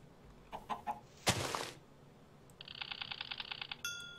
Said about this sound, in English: We hear the chicken.